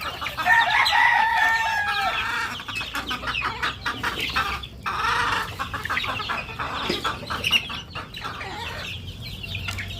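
Hens and chicks clucking and cheeping busily around feed, with a rooster crowing near the start and birds squawking close by throughout.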